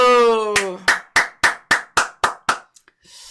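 A voice speaks briefly, then a single person claps hands eight times in a quick, even rhythm, each clap close, loud and crisp, before a short pause and faint room noise.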